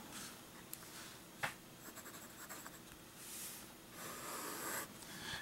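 A Waterman 54 vintage fountain pen with a flexible number 2 nib writing on paper, giving a faint, slightly scratchy rustle of strokes with a few sharper ticks, quiet and close with no talking.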